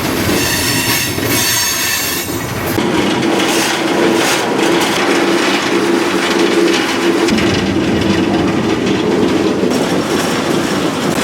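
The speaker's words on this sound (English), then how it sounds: "this is a loud train" A freight train climbing slowly up a hill between Cumberland and Russell rumbles along the rails with a continuous heavy roar, metallic wheel squeal and clattering, loud and close throughout.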